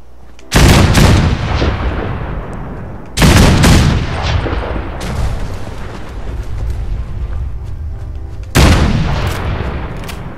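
Heavy modded gunfire in Fallout 4, three loud booming shots spaced a few seconds apart, each with a long rolling decay, no speech over them.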